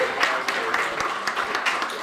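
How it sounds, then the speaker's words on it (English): Conference audience applauding at a gun and gang violence event, a short burst of scattered, moderately loud hand claps with a voice partly over it. "let's give them a round of applause"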